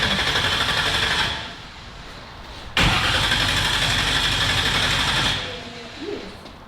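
A 1957 car engine cranks repeatedly and tries to start, with two long bursts of loud whirring starter noise separated by a sudden break, then dropping away to quiet.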